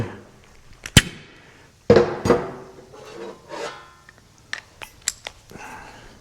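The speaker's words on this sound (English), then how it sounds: "I have a hole puncher. It's a lot faster than drilling." A hand hole punch forcing holes through a metal front bumper on a budget trophy truck: a few sharp, loud snapping cracks, then lighter clicks and scrapes of handling the tool, close up and with no talking.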